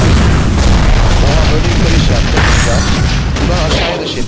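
A heavy charged blast explosion in the video game Magic Rampage, a loud booming rumble that sustains for several seconds with crackling debris, gradually thinning toward the end.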